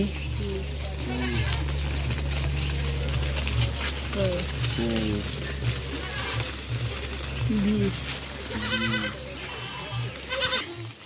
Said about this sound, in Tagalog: Ang daming kambing, oh.